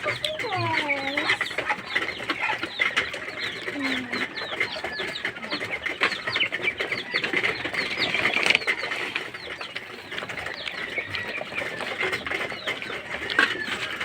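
Rhode Island chickens cluck steadily in a busy farmyard, with rising calls, occasional wing flaps and other fowl around, continuous and fairly close throughout with no talk.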